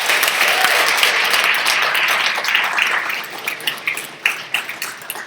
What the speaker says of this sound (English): Let's do a round of applause just for all of you.